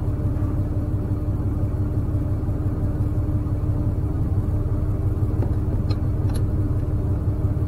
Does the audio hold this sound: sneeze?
no